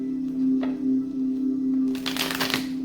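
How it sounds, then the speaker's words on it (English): Brisk crackling riffles of tarot cards being shuffled near the end, with a few light taps earlier, over a steady low electrical hum. "Let's do 2 more shuffles"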